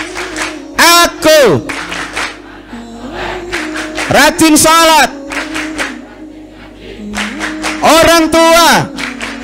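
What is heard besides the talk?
rhythmic group hand clapping in a children's clap chant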